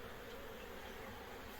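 Honey bees from a small three-frame colony in an opened beehive, making a soft, steady buzz that hums evenly throughout, faint and alone without any talk.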